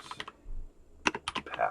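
Computer keyboard typing, a few scattered clicking keystrokes at first, a pause, then a quicker burst of close, crisp key taps.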